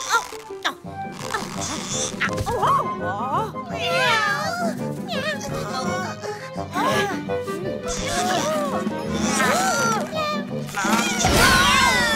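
Several kittens meow repeatedly in high, wavering cries, close and overlapping, with a voice talking intermittently among them.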